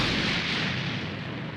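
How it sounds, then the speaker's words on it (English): A Mighty Explosive Wave attack from Dragon Ball Xenoverse 2 erupts as a loud, sustained roaring blast. It fills the whole short stretch at steady strength, with no talk over it. "But first I want to show off Mighty Explosive Wave"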